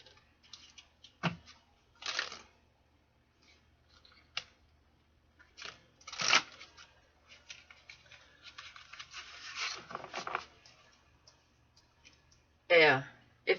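Tarot cards are shuffled close up in quiet, with scattered soft clicks and riffling bursts at irregular intervals and a faint crisp snap near the end.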